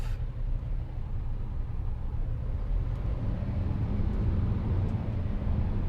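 A car engine rumbles steadily as the vehicle pulls away, with a constant low drone throughout.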